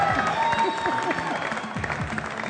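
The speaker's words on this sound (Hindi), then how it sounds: "तालियां बजा दें सब जबरदस्त।" Studio audience clapping on a Pakistani live television show, a steady burst of applause with a faint tone and some crowd noise beneath.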